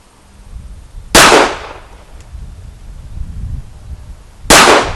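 Two loud, sharp pistol shots from a Sig Sauer 1911C Scorpion, spaced about three seconds apart at close range, each with a short echoing decay over a quiet outdoor background.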